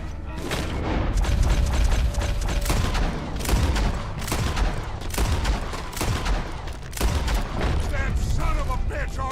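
Rapid gunfire from a Red Dead Redemption 2 shootout, a dense fusillade of sharp cracks and booms with mechanical clicks, loud and continuous for the whole stretch, with shouted voices mixed in.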